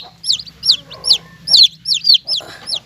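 Brood cocks and chickens give a run of about seven sharp, high clucking calls at an even rhythm, loud and close, with no voices.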